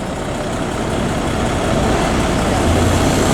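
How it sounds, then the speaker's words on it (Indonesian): A transport bus engine idles at a petrol station, a steady loud low rumble that continues unbroken throughout with no pauses. "Ada satu unit bis transport ya"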